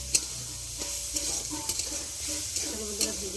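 Soybean chunks sizzle in hot oil while being stirred, a continuous frying hiss broken by several sharp scraping knocks of the spatula against the pan, close and fairly loud, with no talking.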